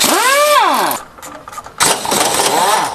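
A car starter grinds against a badly worn flywheel ring gear: a loud, harsh whine sweeps up and down, breaks off, then returns as rough, rattling cranking bursts close by.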